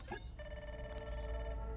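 A phone rings in the video game Grounded 2, a steady electronic trill with layered tones that holds on after a short burst of other game noise, fairly quiet and heard alone.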